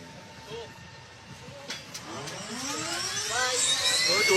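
An aircraft engine starts up before takeoff, its whine rising steadily in pitch and loudness over a few seconds, with voices talking faintly alongside.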